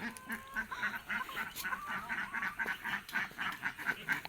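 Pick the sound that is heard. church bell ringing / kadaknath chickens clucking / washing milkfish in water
kadaknath chickens clucking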